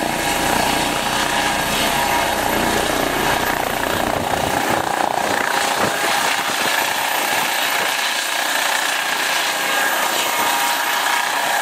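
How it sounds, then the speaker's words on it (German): A helicopter deployed to a Berlin emergency scene near the Gustav-Heinemann-Brücke drones continuously overhead, a loud, steady broadband roar that stays constant throughout and eases slightly in its lower rumble toward the end. "deshalb auch der Helikopter hier im Einsatz"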